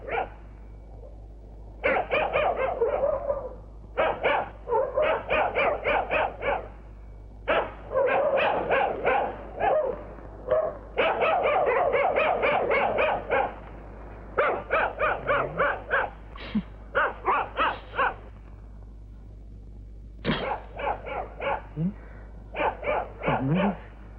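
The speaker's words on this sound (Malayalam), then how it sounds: "പട്ടിയുടെ ധർമ്മം കുറയ്ക്കുക എന്നുള്ളതാണ്" A dog barks in repeated bursts of rapid, harsh calls separated by short pauses, loud and close, with the barking carrying on for the whole stretch.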